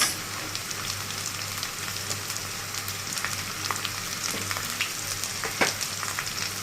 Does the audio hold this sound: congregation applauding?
no